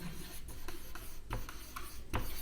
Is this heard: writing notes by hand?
yes